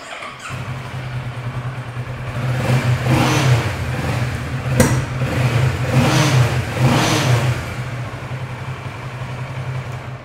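Kawasaki Z900 superbike, a 2018 inline-four, revving hard in repeated surges with a steady low idle between blips, close and loud with no talking.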